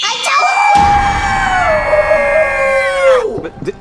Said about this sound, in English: Did I just hear a shark scream?